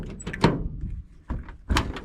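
A door on a 1970 Volkswagen bus in poor, shot-up condition opens with a few thunking, rattling metallic knocks, close and moderately loud, in two or three separate bursts.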